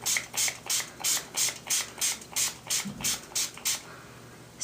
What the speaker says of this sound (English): I'm just going to spray this alcohol directly onto the eyeshadows until they're wet